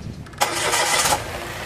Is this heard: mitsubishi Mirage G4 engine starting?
yes